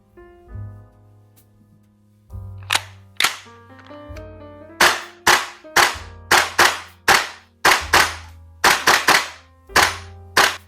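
Sharp shots from a BPW SIG MCX airsoft gas blowback rifle ring out in an uneven string of about a dozen cracks, some close together in pairs, loud and near with a low hum underneath.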